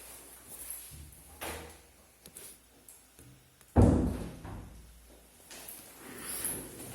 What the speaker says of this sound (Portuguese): vou fechar a porta